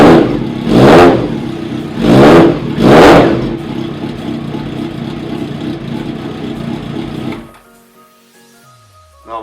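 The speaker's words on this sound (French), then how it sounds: "On va pas mettre de coup de gaz, parce que la moto est froide" A cold motorcycle engine with a new exhaust runs loud and close, swelling three times in quick surges before settling into a steady rumble and then cutting out abruptly.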